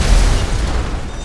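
A single deep boom of a gas cylinder explosion in GTA, with a heavy low-end thud, short and loud, fading quickly.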